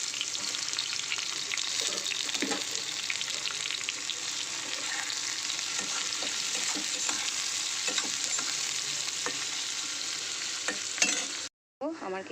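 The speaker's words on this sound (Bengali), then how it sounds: "আমার কিন্তু পেঁয়াজটা পুরো লাল লাল করে ভাজা হয়ে গেছে।" Chopped onions fry in a modest amount of oil, giving a dense, even sizzle throughout with occasional soft stirring scrapes, ending in a brief break.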